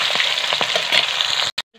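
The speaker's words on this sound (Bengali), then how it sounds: "বন্ধুরা সত্যি এই মাছটা কিন্তু অতটা ফোটেনি, খুব সুন্দরভাবে ভাজা হলো।" Fish frying in a pan gives a steady crackling sizzle, close and fairly loud, before cutting off abruptly near the end.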